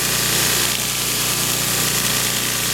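A grinder runs steadily against a knife blade, grinding adhesive off its surface with a loud, continuous abrasive whir and no break in level throughout.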